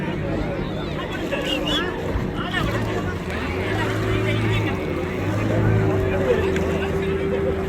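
An engine-powered racing boat runs past during a boat race at Mathagal, Jaffna, its motor droning steadily with shifting pitch beneath a constant crowd hubbub and people talking nearby.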